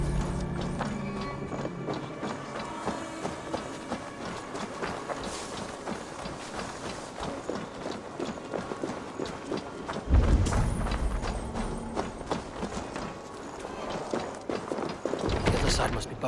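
Horses' hooves clip-clopping in the video game Assassin's Creed Valhalla, a steady trotting rhythm that runs throughout, with in-game ambience and a heavier thud partway through.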